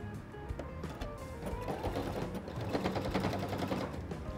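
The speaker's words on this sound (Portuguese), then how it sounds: "Vou colocar aqui, ó, o viés. E vou passar a costura." A sewing machine stitches bias binding onto a tray cloth, a close, steady rapid mechanical chatter that runs without a break and grows slightly busier toward the end.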